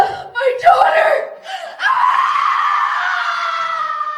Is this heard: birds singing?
no